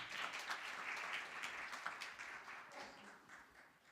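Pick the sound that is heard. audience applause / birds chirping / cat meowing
audience applause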